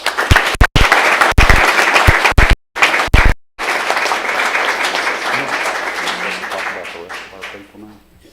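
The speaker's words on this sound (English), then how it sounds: "please join me in a round of applause" An audience at a city schools board of education meeting applauds a retiring employee. Loud, dense clapping at first is broken by a few abrupt cutouts, then continues steadily and tapers off toward the end.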